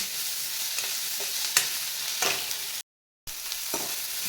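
Tomato being sautéed in a spicy masala, with a steady sizzle punctuated by several scraping stirs and a brief dropout of sound near the end.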